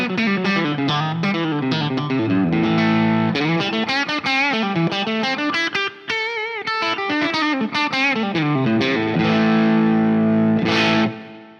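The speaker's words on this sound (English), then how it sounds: "We're starting to get into that crunchy, bluesy territory." A Gibson Les Paul played through a Laney Ironheart Foundry Loudpedal gives a crunchy, bluesy overdriven lead: a sustained run of bent and sliding notes with distorted grit, loud and continuous, with no talking.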